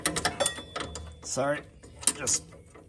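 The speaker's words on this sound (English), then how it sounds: "So let's break this bottom one free" Metallic clicks and ratcheting scrapes as a wrench works the bottom adjuster collar of a car coilover loose, close up, with a person talking over it.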